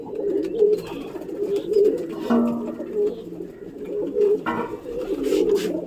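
Pigeons cooing repeatedly in a steady rhythmic series of soft throaty calls, close by, with faint background sounds and a brief brighter chirp-like noise in between.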